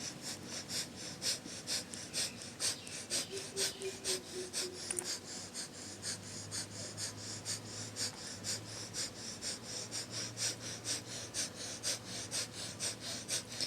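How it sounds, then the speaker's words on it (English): Rapid, rhythmic breath-of-fire breathing during a Kundalini yoga session, the navel pumping with each exhale; quick forceful sniffs repeat steadily at close range, roughly three per second, with a faint low hum underneath. "pumping the navel in breath of fire"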